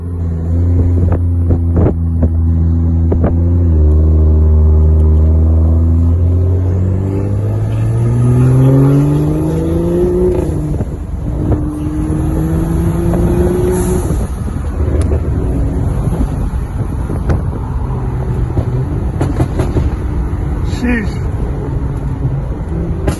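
A BMW X5 (F15) with the N55 engine and a full straight-pipe exhaust, loud and close, revving in rising and falling sweeps, then settling into a rough idle with wind buffeting the microphone.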